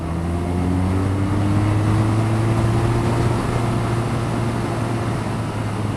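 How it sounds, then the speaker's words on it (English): Steady roaring wind rush over an unfaired BMW R nineT naked motorcycle at speed, with a low engine drone running beneath, loud and continuous throughout with no talking. "As for wind blast, well, it is a naked motorcycle, no wind protection."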